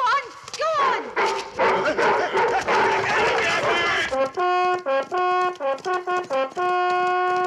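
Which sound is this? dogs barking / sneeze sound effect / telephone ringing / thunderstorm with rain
dogs barking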